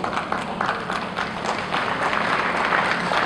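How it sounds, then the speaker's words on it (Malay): An audience claps steadily at a Malaysian political speech, a dense, loud, continuous wash of applause from a crowd nearby, sustained for several seconds. "Anda setuju, anda tepuk tangan,"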